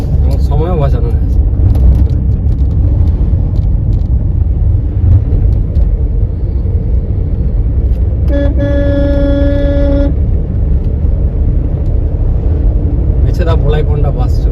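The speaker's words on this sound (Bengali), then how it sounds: "এছাড়া ভোলাই পন্ডা বাস চলে যাচ্ছে।" A bus passes on a bypass road in traffic, its engine rumbling steadily while a loud, sustained horn blares for about two seconds midway, with other vehicle noise throughout.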